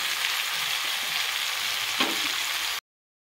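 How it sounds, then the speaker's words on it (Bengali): Steady, loud sizzling of vegetables frying with slit green chillies, coriander powder and cumin powder, a dense even crackle close by that cuts off abruptly, with no talking. "তো সবজিগুলো একটু ভাজা ভাজা করে নেব।"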